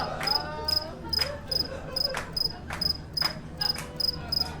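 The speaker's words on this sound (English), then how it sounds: "I was waiting for the crickets to end." Crickets chirp in a steady, regular rhythm of rapid pulsed bursts, about two per second, fairly close and clear over a quiet background hum.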